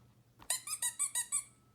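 Squeaky sound effect from the Ballyland Sound Memory app game, six bright, evenly spaced squeaks in quick succession, clear and alone against near silence.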